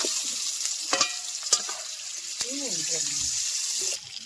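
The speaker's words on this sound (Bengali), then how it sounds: "ক্যাপসিকাম হালকা আঁচে ভেজে নিয়েছি" Oil sizzles steadily as capsicum fries on low heat, with a few sharp scraping clicks of a spatula stirring the pan, then cuts off near the end.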